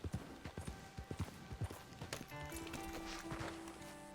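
Horse hooves clip-clopping in the video game Red Dead Redemption 2: a steady, rhythmic run of close hoofbeats for about two seconds, then tonal game music and ambience take over.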